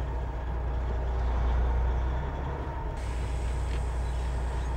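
A truck with a ZF Meritor Smart Shift transmission backs slowly up to a loading dock in reverse low, its steady engine rumble and drivetrain hum continuous and moderately close with no talk.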